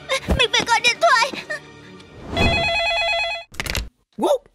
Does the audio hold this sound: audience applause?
no